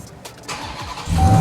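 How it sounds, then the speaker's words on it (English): A 2023 Ram 1500 TRX engine starts up close by: a brief crank followed by the engine catching into a loud, deep rumble at the end. "Car starts right up."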